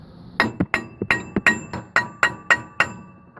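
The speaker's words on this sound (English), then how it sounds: "let's see if I hit with a hammer to loosen it up." Hammer striking a bolt on a Troybilt Pony riding mower during lower drive belt replacement: about nine sharp metallic blows in a steady rhythm, close and loud, with ringing clinks and no talking.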